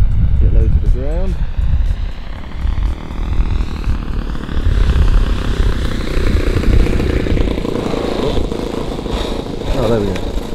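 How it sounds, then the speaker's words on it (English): A radio-controlled Hangar 9 P-47 scale model warbird with a Laser 100 four-stroke engine comes in to land in a slight crosswind. The engine drones loudly and steadily throughout, with its pitch wavering, and someone talks over it. "Need a slight crosswind landing."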